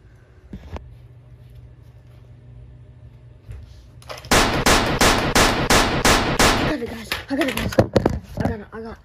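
A loud, close burst of about nine rapid gunshots is fired at a creature, followed by scattered knocks and rustling.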